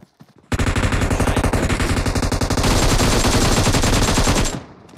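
Gunfire in the video game PUBG Mobile: a loud, continuous rapid volley of shots rattles for about four seconds, then stops abruptly.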